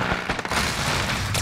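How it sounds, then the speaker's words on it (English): Dense rumbling explosions from an airstrike in a video game, a continuous loud barrage of booms and crackling blasts with no clear gaps. "Enemy above position me. Airstrike, take cover."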